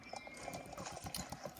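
Horse hooves clip-clop in a steady, even rhythm in a video game set in Jarlaheim, moderately close over a constant background hum with no talk.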